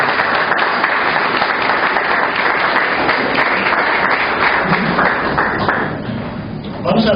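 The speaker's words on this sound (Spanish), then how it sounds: "démosles ese fuerte aplauso" A church congregation breaks into strong, dense applause that holds steady and then thins out near the end, with a few scattered voices.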